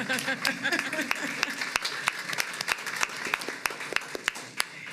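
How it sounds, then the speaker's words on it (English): Scattered applause at a school board meeting, a few people clapping in distinct, uneven sharp claps rather than a full crowd, with moderate loudness throughout. "That definitely deserves an applause right there."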